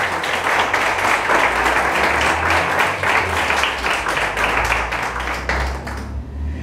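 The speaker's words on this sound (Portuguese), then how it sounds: "Pode aplaudir a palavra de Deus" Congregation in a church clapping loudly and steadily, dense rhythmic applause from many people that holds strong before tapering off at the very end.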